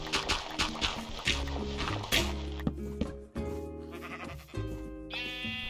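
Sheep bleating in the video game Minecraft, several wavering bleats in a row over a busy game backdrop of tones and effects, fairly close and clear.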